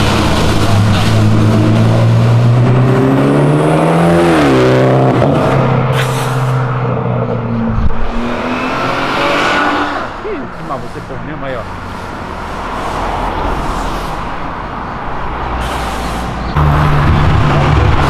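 A Golf GTI and a Civic Si roar and rev as they accelerate in a drag race, pitch rising and falling through gear changes, with people talking over the noise.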